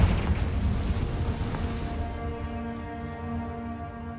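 Confringo spell explosion in the video game Hogwarts Legacy: a loud, booming blast at the start that rumbles and slowly fades over several seconds, leaving a lingering tonal ring.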